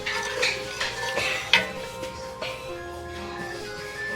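A spoon stirs thyme into a pot of gumbo, giving light clinks and scrapes against the pot in an irregular rhythm, with one sharper knock partway through.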